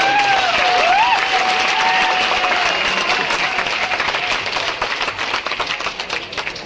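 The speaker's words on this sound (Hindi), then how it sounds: "एक बार जोर से ताली बजा दो" A crowd at a cryptocurrency success celebration event in Chandigarh claps loudly, a steady roar of hands under a rising and falling tonal sound, thinning toward the end into separate claps.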